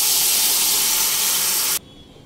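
Mango dal poured into hot tempering in a pan, a loud hissing sizzle that holds steady and then cuts off abruptly, leaving a faint quiet background.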